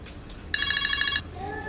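A telephone rings with one short burst of rapid bell-like trills, followed by a fainter electronic tone, heard indoors at a GP clinic.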